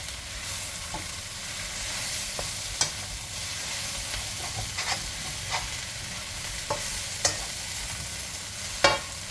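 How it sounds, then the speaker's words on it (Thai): Soft sizzling in a pan with occasional sharp clicks and scrapes of a utensil stir-frying mee sua noodles with scallions, pork, and dried shrimp, close by and fairly steady. "ต้นหอมหั่นท่อนค่ะลงไปผัดค่ะ"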